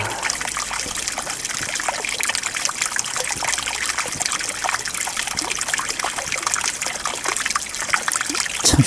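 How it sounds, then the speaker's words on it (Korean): Groundwater bursting from a narrow crevice in a rock face, a steady, close rush of spraying and splashing water that runs without pause. "아마 지하수가 모여서 이렇게 뿜어져 나오는 것 같은데"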